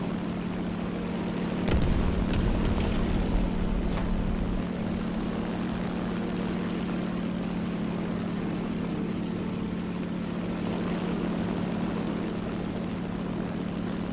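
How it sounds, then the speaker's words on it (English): Strike aircraft fly in a naval combat video game, a steady droning engine hum with a low constant tone that swells briefly near the start and holds evenly throughout, with no talking. "Strike aircraft."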